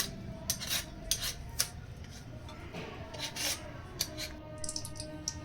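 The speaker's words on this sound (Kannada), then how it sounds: "ಈ ರೀತಿ ಒಣ ಕಲ್ಲಿಗೆ ಹಾಕ್ಕೊಂಡು ಕುಟ್ಕೊತಾ ಇದ್ದೀನಿ ಕುಟ್ಕೊಂಡು ಚೆನ್ನಾಗಿ ಪೌಡ್ರ್ ಮಾಡ್ಕೊಬೇಕು" Whole spices pounded to a powder on a dry grinding stone for mango rice, heard as a near, irregular series of sharp clacks and gritty scraping strikes, moderately loud, with no talk.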